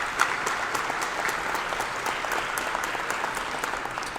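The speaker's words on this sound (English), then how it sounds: "Again, a round of applause." A luncheon crowd at a sports communicators' special awards event gives a steady round of applause that holds at an even level from start to finish, with no voices over it.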